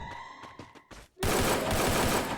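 Rapid automatic gunfire erupts in the Free Fire battle royale game, a loud dense burst of shots filling the second half after a few sparse game tones, with no talk.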